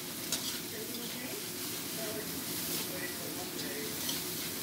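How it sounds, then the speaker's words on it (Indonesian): Spices for nasi goreng stir-fried and stirred in a pan: a quiet, continuous sizzle with faint scraping movements, low in level, with possible faint voice in the background. "Ya, ditumis-tumis, diaduk-aduk."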